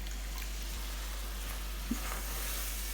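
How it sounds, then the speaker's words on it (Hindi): Soaked spices frying in roasted gram flour for a Rajasthani whole-onion curry, a steady soft sizzle close by with one small pop partway through, no talking. "अब हमने मसाले को भूनते जाना है।"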